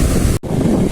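Strong wind at Malpe beach in Udupi buffets the microphone in a loud, rough roar with a sharp momentary dropout partway through.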